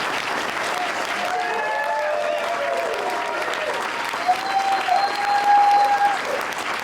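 A roomful of people clapping during a talk, a sustained, fairly loud wash of applause with a few shouts and whoops rising near the end.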